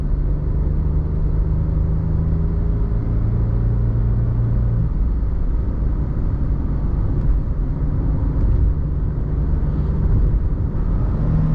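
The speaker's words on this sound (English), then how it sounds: "Get back on the highway, try a more normal highway acceleration here." Steady low engine rumble and road noise from inside a 2012 Jeep Liberty accelerating onto a highway, continuous and loud with a slowly shifting drone and no talking.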